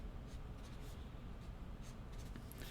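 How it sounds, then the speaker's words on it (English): A pen scratches steadily across paper while algebra work is written out, a faint continuous scribble over low room hiss. "And then write your formula down."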